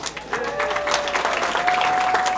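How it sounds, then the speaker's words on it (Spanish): Audience applause welcoming the founder at a gathering, steady dense clapping throughout with a faint sustained tone running beneath it and some background voices. "la recibimos con todo nuestro cariño, con un aplauso"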